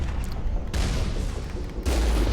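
A Geth heavy turret fires in the video game Mass Effect: heavy booming blasts arrive in surges over a dense, rumbling wash of noise, loud and close, with no talking.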